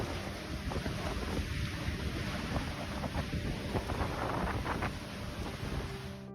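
EF2 tornado winds batter a motel as the roof is torn away, a dense continuous roar of wind buffeting close to the microphone with scattered clatters and crackles throughout.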